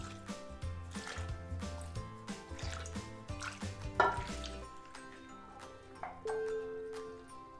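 About a cup of water is poured into a pot while cooking dum pukht, giving soft, quiet splashes and drips amid faint kitchen clatter of utensils.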